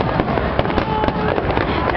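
Fireworks burst during a pyromusical show with a Canadian display, giving a quick run of crackling pops and sharper bangs over a continuous rumbling bed, with crowd voices mixed in.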